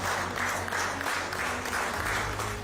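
PMO staff lined up on both sides of the way clap to welcome the Prime Minister. The dense, steady applause continues without a break and sounds close.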